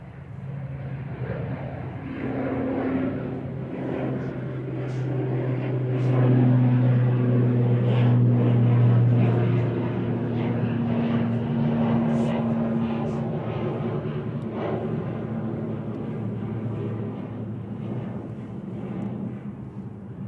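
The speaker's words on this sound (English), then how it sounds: "Logan has a little ATR 42500 heading back to Inverness" An ATR 42-500 turboprop heading out at Manchester Airport drones steadily with a strong low hum and tonal whine, swelling toward the middle and holding at a fairly near, loud level.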